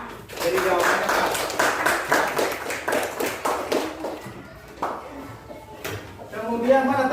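Elementary school pupils in a classroom clap together for a group, a dense run of quick hand claps that rises, holds and gradually thins out, with a teacher's voice and children's chatter mixed in.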